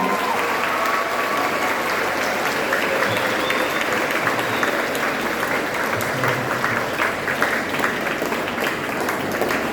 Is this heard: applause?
yes